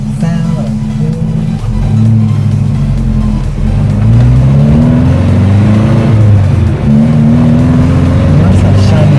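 A Volvo 122 Amazon wagon's engine revs with a deep, throaty low rumble that swells and eases. It is loud and close and continuous for the whole stretch.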